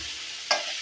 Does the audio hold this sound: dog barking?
no